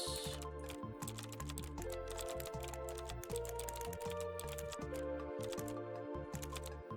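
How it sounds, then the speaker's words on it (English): A computer keyboard is typed on during play of the puzzle game Replicube, making quick, steady clicking keystrokes close up and quiet, with no talk. "keyboard clicking"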